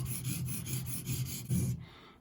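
A knife is sharpened back and forth on a whetstone, with a steady rhythm of gritty rasping strokes about four per second, close and fairly quiet, ending in a brief pause.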